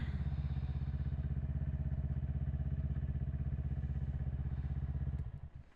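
A motorcycle engine runs loud and close on a test ride, a steady rhythmic chugging throb that holds constant for several seconds before cutting off abruptly at the end.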